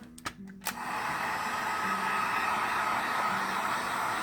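A hot air tool blows with a steady, close whoosh while heating the face of a thermoplastic skull evenly, preceded by a couple of quick clicks as it starts.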